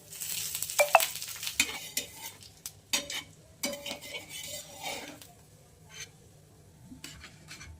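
An egg fries in a pan with a soft, steady sizzle, joined by faint scraping and clinks of a utensil stirring against the pan, quiet and close.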